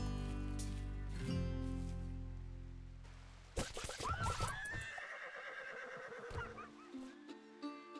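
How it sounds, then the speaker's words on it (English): A horse in the video game RimWorld neighs loudly in a long, shaky whinny that cuts through a low droning background, followed by hoof clip-clops and a few quieter snorts. "I hear a horse out here getting attacked by something."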